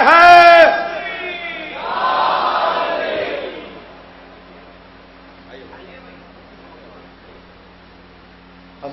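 A large crowd at a religious celebration event in Mumbai roars a unison slogan in response to a leader's call, a loud swelling chant that then fades to a quiet hall with faint murmurs.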